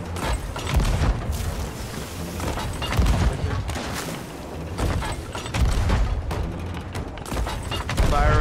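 Cannons fire on a brigantine in the pirate game Sea of Thieves, a rapid series of booming blasts and heavy thuds in an irregular barrage, loud and close, with no talk over them.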